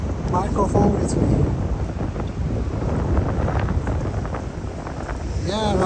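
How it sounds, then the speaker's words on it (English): Gusty wind rumbles against the microphone on an Istanbul street, with a voice talking intermittently underneath and a brief higher tone near the end. "I wasn't expecting that windy weather."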